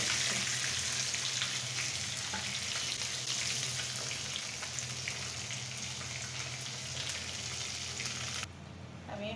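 Fish frying in a pan of hot oil gives a steady, even sizzle that runs throughout at a moderate level, dropping off suddenly just before the end.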